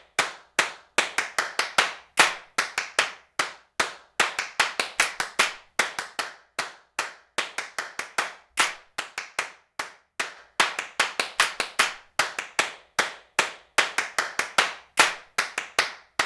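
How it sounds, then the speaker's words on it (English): Sampled hand claps from a MIDI drum mix play alone in a tight repeating rhythmic pattern, crisp sharp hits close and dry, some in quick flams and doubled bursts, steady throughout. "these are my claps"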